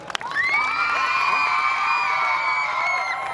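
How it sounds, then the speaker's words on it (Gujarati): Loud crowd cheering with whoops and shrill whistles at a nursing college's new building opening ceremony, a dense, sustained roar that swells quickly and holds steady for several seconds. "તો સૌથી પહેલા જોરદાર તાળીઓ."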